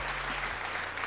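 Clapping as a single quick bout of applause, dense and steady over a low droning hum, with no talking.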